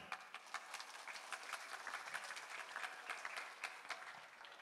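Scattered applause from an audience at an outdoor Islamic religious gathering in Surabaya, a thin continuous patter of hands clapping at moderate distance with no talk over it.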